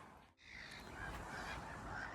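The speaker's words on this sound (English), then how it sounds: "Hear the bloody seagulls squabbling." Seagulls squabbling by a fishing lake, their harsh, overlapping calls loud and continuous after a brief dip near the start.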